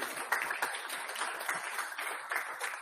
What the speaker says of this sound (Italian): E questo merita un altro applauso